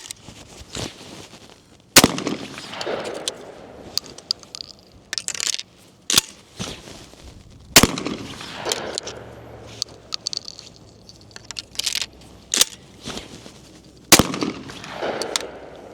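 A Fabarm L4S Sporting shotgun fitted with a shell catcher fires three rounds. Three sharp, loud blasts come a few seconds apart, with smaller clicks and clatter from handling the gun between shots.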